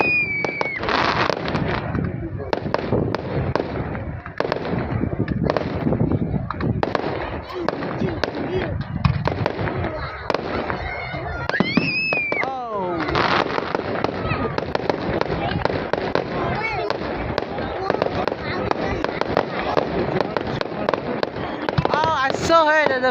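Fireworks show at night in Mildura, with a steady run of booms, crackles and whistling rockets close by, under excited talking and exclamations from the crowd.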